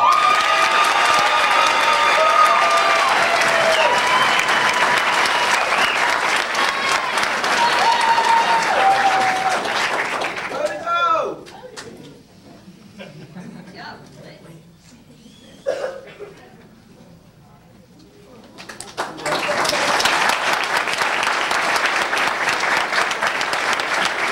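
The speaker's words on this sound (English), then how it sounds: "give the candidates a round of applause" A crowd at a fire school graduation ceremony claps loudly, the applause fading into quiet with a few scattered claps and murmurs, then swelling again into full clapping.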